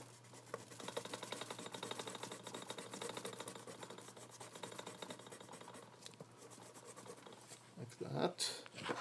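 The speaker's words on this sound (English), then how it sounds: "So I'll just take a white eraser" White eraser rubbed back and forth over pencil sketch lines on paper, a continuous quiet scratchy scrubbing with rapid strokes, close up, ending in a few louder rubs.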